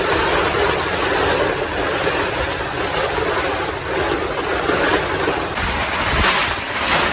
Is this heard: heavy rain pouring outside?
yes